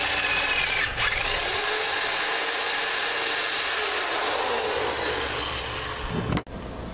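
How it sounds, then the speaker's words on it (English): A power drill bores through the land side of a Ford plow during restoration. It runs as one loud, continuous whine for about six seconds, then cuts off near the end. "let's go ahead and drill the land side and get it bolted on"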